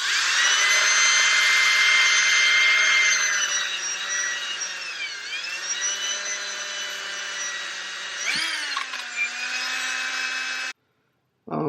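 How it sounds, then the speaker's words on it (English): A motorized wire brush whines at a steady high pitch, dipping briefly as it presses against a metal exhaust valve from a Yamaha Warrior 350 ATV engine, then cuts off near the end. "I'm going to just take a little wire brush and just clean this off"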